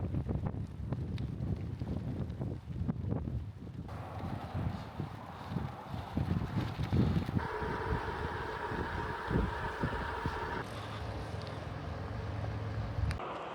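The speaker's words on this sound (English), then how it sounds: "some crazy wind here with gusts up to like 40 miles an hour" Strong gusty wind, with gusts near 40 miles an hour, buffets the microphone on an open trail while bikepacking toward Yakima, a steady low rumble with uneven surges and no speech.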